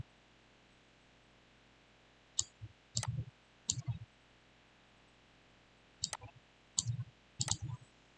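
A computer mouse is right-clicked repeatedly, giving sharp, close clicks in small clusters of two or three separated by quiet gaps over a faint steady hum.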